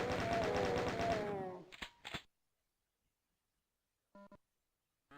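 A chain gun fires in the classic DOOM game, a dense burst of rapid mechanical shots at first, then two short isolated bursts after a silent gap, sharp and close.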